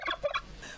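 A turkey on a rural family farm in Paraipuna gives a short, close, rapid gobbling burst with no voices over it.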